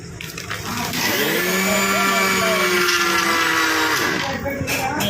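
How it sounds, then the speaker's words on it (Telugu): A kitchen mixer grinder runs at full speed, grinding roasted sesame seeds and peanuts into powder with a loud, steady whine that rises at the start and dies away near the end, close by. "దాన్ని మొత్తం మిక్సీ పట్టేసుకున్నాము"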